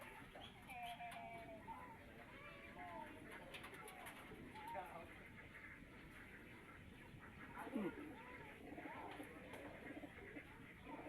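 A pigeon coos softly in Matnog, Sorsogon, with faint repeated calls at a distance under people chatting nearby and general outdoor background noise.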